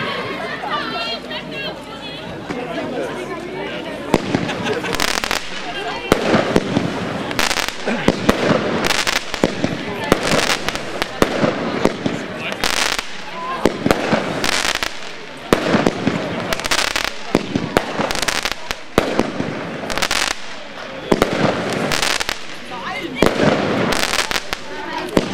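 A 19-shot firework cake fires shooting star bouquets in a rapid series of sharp bursts, one after another, loud and close, while people chatter and talk in the background.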